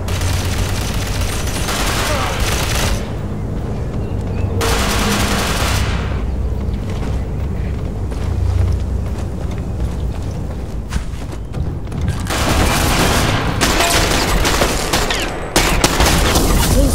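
Sustained automatic gunfire and bursts from the online shooter Ghost Recon Phantoms fill the scene, loud and continuous with booming impacts and game ambience, briefly quieter midway before heavy firing resumes.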